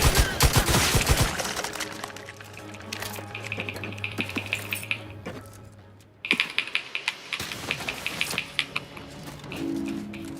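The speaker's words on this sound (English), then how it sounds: "This heavy burst machine gun seems to work quite well." Heavy burst machine gun fire in The Outer Worlds video game: rapid, sharp clattering shots in repeated bursts, loud and close, with a brief gap midway and a low hum under the later volleys.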